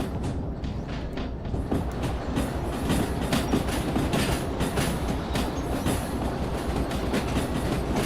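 Dinky diesel multiple unit rolling along track in the railway game Derail Valley, a loud continuous rumble with rhythmic clickety-clack of wheels over rail joints and faint squeals, no voices.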